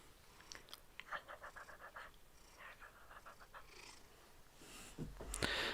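A house cat purrs close up in a rhythmic run of soft, rasping pulses, quiet at first and building louder toward the end, with no talking.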